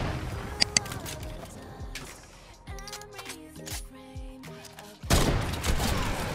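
Gunfire in a Fortnite match: two sharp shots near the start, then scattered game effects and a burst of dense noise near the end, with no speech.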